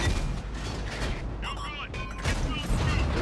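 Tank cannon fire in World of Tanks, with a T57 Heavy in play: booming shots and mechanical clanks over steady game noise, partly masked by a voice.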